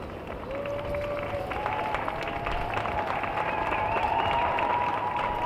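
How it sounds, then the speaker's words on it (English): Crowd applause at the 2021 presidential inauguration, a steady distant wash of clapping from a large outdoor audience over continuous background noise, with a faint tone drifting through. "We can hear the applause."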